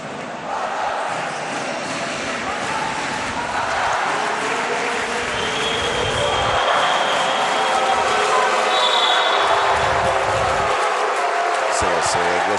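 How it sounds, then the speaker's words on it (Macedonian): Vardar fans cheer and chant loudly in an indoor arena during an under-16 basketball championship semifinal in Macedonia, a dense, continuous roar that builds slightly over time, with a commentator speaking over it. "Сега се гласуваат Вардаровите навивачи"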